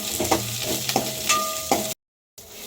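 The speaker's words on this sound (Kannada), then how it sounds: "ಈಗ ಜೀರಿಗೆ ಜೊತೆಗೆ ಸ್ವಲ್ಪ ಹುರ್ಕೊಳ್ಳೋಣ" Garlic, onion, curry leaves and dried chillies frying with cumin in oil, a steady close sizzle broken by a few sharp stirring clatters, cutting out briefly near the end before resuming.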